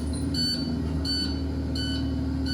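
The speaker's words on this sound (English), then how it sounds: "build some pressure in our air tanks to get the emergency buzzer to stop going" Low air pressure emergency buzzer on a bus, sounding in repeated short bursts about every second over a steady engine idle hum, with no voices.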